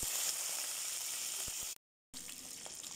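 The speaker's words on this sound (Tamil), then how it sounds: "நல்லா வதக்கிக்கோங்க. நல்லா ப்ரௌன் கலராக வரணும், நல்லா வாசம் வரணும்." Green chillies and onion sizzle and fry in hot oil for a Chettinad fish curry, a steady close hiss with a few stirring knocks, briefly cut to silence before the sizzle resumes.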